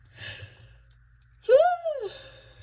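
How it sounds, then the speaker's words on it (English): A single yawn, starting with a breathy exhale and rising into a long, voiced, sweeping stretch, close and fairly loud. "a little yawn and a scream there for you"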